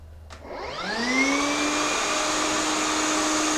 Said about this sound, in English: So this is level 1,